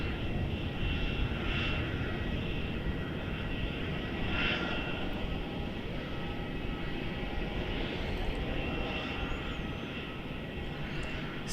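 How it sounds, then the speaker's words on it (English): A Jetstar Boeing 787 Dreamliner at Melbourne Airport produces a steady, broad engine roar at some distance, with its rumble and hiss holding nearly constant throughout. "it's Jetstar Dreamliner"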